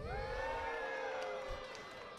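An audience at a combat robotics event cheers and whoops for the robot Snorkel's the elephant, a sustained crowd roar with high rising shouts, steady and fairly loud throughout.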